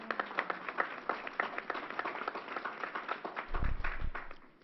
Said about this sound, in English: Let's give New York State a round of applause.